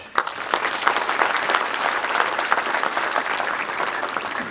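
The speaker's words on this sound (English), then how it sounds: "I think that deserves a louder round of applause" Sustained applause from a large audience at the inaugural session of the International Solar Festival, a dense, steady wash of many hands clapping without pause, loud and fairly close.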